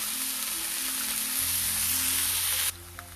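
Tomatoes frying in a pan with salt and turmeric powder, giving a steady close sizzle with soft stirring that cuts off near the end.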